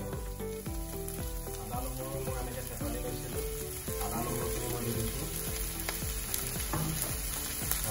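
Fish roe frying in oil with ginger and garlic, a steady sizzle with occasional stirring scrapes that runs without a break under a layer of background music.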